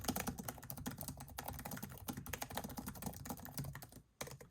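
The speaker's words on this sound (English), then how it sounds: "let's go ahead and test the typing experience" Fast, continuous typing on a Lenovo Thinkbook 14 laptop keyboard with an AMD Ryzen 5 4500U, dense close key clicks with a brief pause near the end, no talk.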